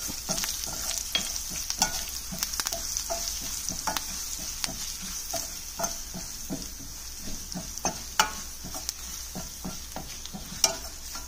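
A tempering of crushed garlic and a pinch of asafoetida sizzles in hot oil for cabbage pachadi, a steady crackling fry with a spoon stirring and scraping the pan, clear and close with no talking.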